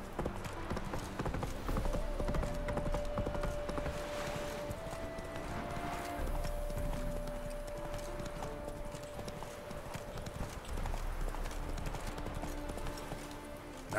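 Roach the horse galloping in The Witcher 3: Wild Hunt, hooves clip-clopping in a fast, steady rhythm under a continuous game music and ambience bed, with a faint voice briefly in the background.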